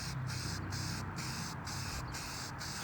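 An old spray paint rattle can sprays tractor oil pans in short, even repeated bursts, a steady close hiss pulsing about twice per second.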